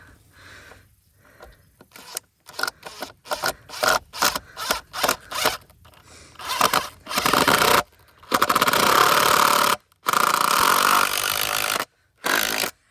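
Wood screws driven into pre-drilled holes in old deck boards while building a backyard fort, heard as a series of short power-driver bursts followed by several longer, louder whirring runs with pauses between them, with no talk.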